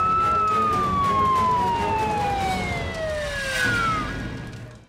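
A fire engine siren wails loud and close, its pitch sliding steadily downward as the truck pulls in, with a second tone gliding above it and rumbling traffic noise underneath.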